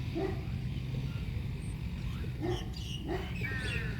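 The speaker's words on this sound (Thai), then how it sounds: "นะเสียงหมาเห่า" A dog barks outdoors near a large rain-filled catchment pond, giving three or four short, distant barks spaced irregularly over a few seconds against a steady background of wind and ambient noise.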